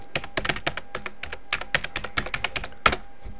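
Rapid, steady keystrokes on a computer keyboard as a router password is typed in, a close run of crisp clicks with one sharper final tap, and no voices.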